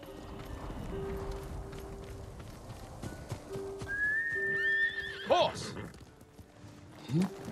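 A horse whinnies in a rising, quavering call, then snorts, over faint clip-clop hoofbeats and low background hum, in the video game Ghost of Tsushima.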